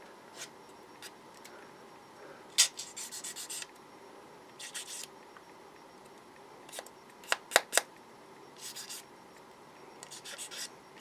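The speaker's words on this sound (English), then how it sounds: "I'll do a little bit more refined sanding" Short bursts of scratchy rubbing as a guitar bridge is sanded by hand, in quick strokes with pauses between them, close and fairly quiet.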